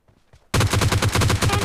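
A gun in the PUBG Mobile Lite video game fires a rapid automatic burst: quiet at first, then a loud, evenly spaced stream of shots that continues to the end.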